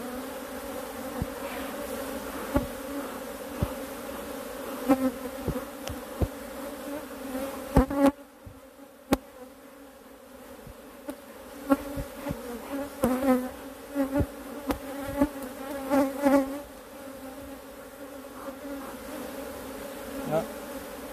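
A dense, continuous buzz of many honeybees swarming close by around a fallen hive frame from an aggressive hive, with intermittent sharper buzzes as individual insects pass near.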